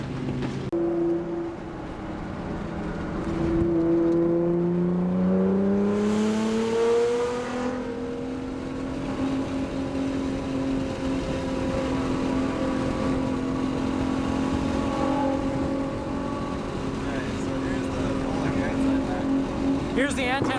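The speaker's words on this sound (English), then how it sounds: "We're gonna do another rolling pull here with the anti-lag right now." A tuned Nissan GTR fitted with anti-lag pulls hard from a rolling start, its engine note climbing steadily and droning loud and close for the whole stretch, with a voice talking over it.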